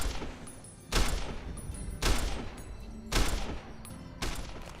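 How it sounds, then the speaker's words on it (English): Gunshots at a shooting range in Fallout: New Vegas: four loud, evenly spaced shots roughly a second apart, each with a sharp crack and a short decaying tail, over low background ambience. "Squeeze the trigger, don't jerk it."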